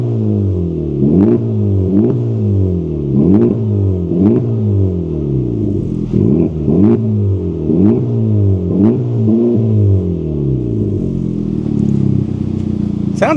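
Honda Civic Type R with a 2-liter turbo engine and aftermarket exhaust revving repeatedly in a regular rhythm, each deep rev rising then dropping back, loud and close.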